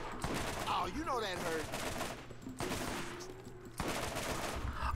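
Rapid bursts of gunfire from a Borderlands video game, sharp repeated shots in quick volleys with dense, continuous combat noise, interrupted briefly by short pauses.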